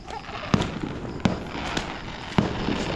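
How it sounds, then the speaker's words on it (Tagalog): Distant fireworks display in Tayabas, Quezon, pops and booms at irregular intervals, several sharp bangs echoing over a noisy outdoor background. "May firework display po yan oh."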